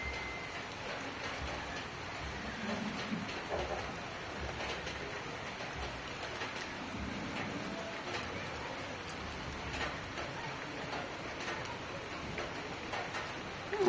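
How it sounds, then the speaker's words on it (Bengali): Steady heavy rain pouring down outdoors on a roadside while travel is halted, a continuous broadband hiss with scattered drip ticks throughout, moderately loud and without talk. "ঝুপঝুপ ঝুপঝুপ করে বৃষ্টি।"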